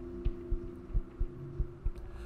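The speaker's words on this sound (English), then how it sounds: "The heart beating, the heart beating, the heart beating" A heartbeat pounds in a horror video game, with low paired thumps beating in a steady rhythm, about seven beats over a constant low hum.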